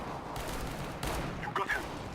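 R8 Revolver shots in CS:GO deathmatch: a few sharp gunfire bursts over continuous game noise, with several close shots clustered near the end.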